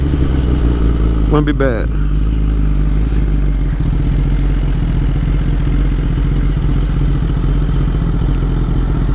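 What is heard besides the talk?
600cc motorcycle engine running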